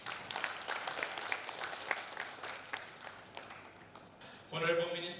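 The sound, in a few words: audience applause, hand clapping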